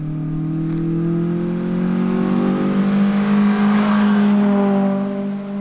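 Modified Acura RSX engine revving steadily and close up, a smooth sustained drone with rising and falling harmonics over several seconds, no talking.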